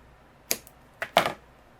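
Handmade card paper being trimmed with a paper trimmer, a few quiet crisp slicing and clicking sounds, close and isolated.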